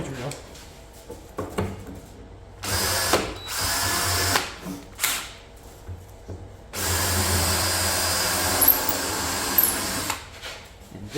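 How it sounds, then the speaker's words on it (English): Power drill boring pin holes into wood while assembling a passive solar heater frame, heard in several bursts of high whirring of varying length, the longest near the end, close and loud with brief pauses between. "So we'll go ahead and pin drill."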